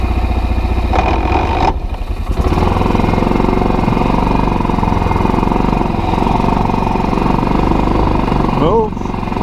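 A Kazuma Jaguar 500 4x4 ATV engine runs steadily in gear nearby, a loud, even mid-pitched drone with a brief dip early on and a short rising whine near the end.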